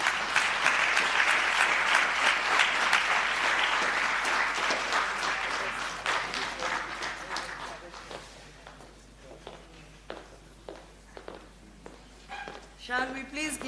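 An audience at a memorial lecture applauds after a speech, loud dense clapping that gradually thins and fades, with a voice speaking as the applause dies down.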